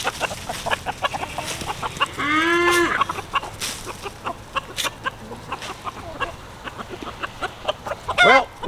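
Backyard homestead chickens, including Buff Orpington hens, cluck and squawk in short, repeated bursts close by, with a louder drawn-out call midway and another near the end, and no talk over them.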